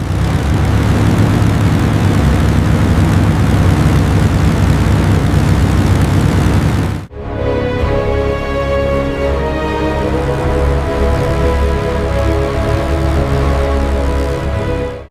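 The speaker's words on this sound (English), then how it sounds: "Engines are spooling up to full power." Convair XC-99 aircraft engines spooling up to full power, a loud, continuous propeller and engine roar that briefly dips midway, then resumes with a harsher, more tonal drone, with no talking.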